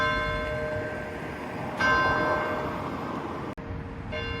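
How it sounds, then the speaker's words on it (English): A church bell rings out over a Warrington town street, its sustained metallic tones hanging steadily across the whole stretch, fairly loud and close, with a brief dropout near the end. "not too sure why this establishment is getting all bell ringy"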